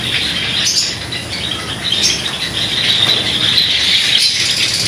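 Java sparrows in a large breeding aviary of roughly a hundred pairs, flying about with busy wing flutter and a steady high chatter of chirps and squeaks that stays dense and close for the whole stretch.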